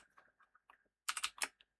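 Computer keys are pressed lightly at a desk, a few soft scattered taps followed by a quick burst of four louder clicks, then one last faint tap, quiet and close.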